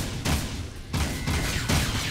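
Four heavy gunshots from the video game Jak II boom at roughly even intervals, loud and close, each with a rumbling tail over dense background noise.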